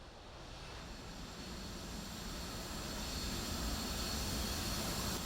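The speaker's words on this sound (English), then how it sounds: "Did I just call in the bat plane?" A Batplane jet in a video game roars steadily and loudly, a broad continuous engine rush that swells slightly as it flies in, with no talking over it.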